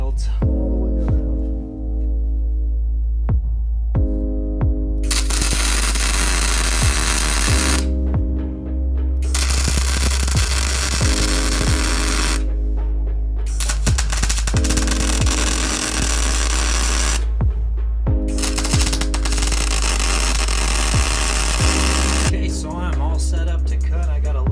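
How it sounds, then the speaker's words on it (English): Big tack welds go onto a mini bike frame, heard as three long bursts of harsh, crackling buzz separated by short pauses, loud over background music. "I'm just gonna do some nice big tack welds all the way around"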